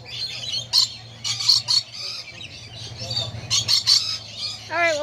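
Several birds squawk and chirp in loud, repeated bursts close by, with sharp calls scattered throughout and a low hum underneath.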